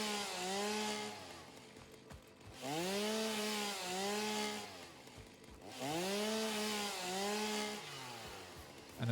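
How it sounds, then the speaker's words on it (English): A chainsaw in the video game Satisfactory revs loudly in three long bursts, its engine pitch sweeping up and down between brief lulls, with no voices over it. "chainsaw is super loud though."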